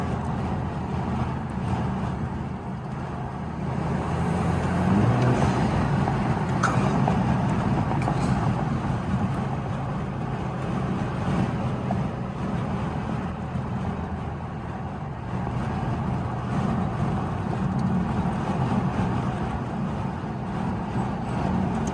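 A tuned Alfa Romeo Giulia cruising on backroads, heard as a continuous loud engine and road-noise drone from inside the car, swelling slightly at times, with no talk.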